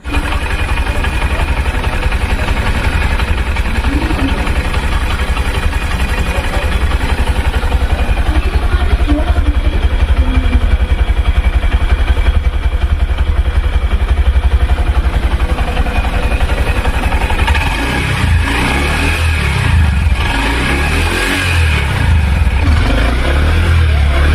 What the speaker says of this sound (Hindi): अब मैं आपको इस बाइक के इंजन का साउंड सुनाता हूं और इसका एग्जॉस्ट नोट भी सुनाता हूं